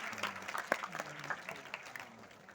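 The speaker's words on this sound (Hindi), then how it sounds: "बजाते रहो, तालियां बजाते रहो" Audience clapping at a school quiz show, continuous and fairly close, with individual sharp claps poking through a dense patter and some faint voices underneath.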